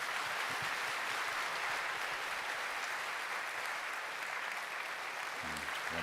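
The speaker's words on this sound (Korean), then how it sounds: "다시 한번 큰 박수로 격려해 주시기 바랍니다" Steady applause from a church congregation during a Sunday worship service, sustained and even throughout, with a brief low murmur of voices near the end.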